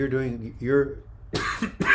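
A voice speaks briefly, followed by two harsh, rough coughs close to the mic, the second one short and sharp.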